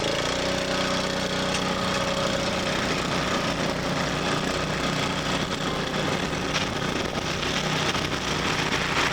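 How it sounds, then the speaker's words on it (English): A giant pump making fake rain on a film set, a loud, continuous engine-like roar with a broad rushing hiss that stays steady throughout, with no voices. "The fake rain is actually created by a giant pump."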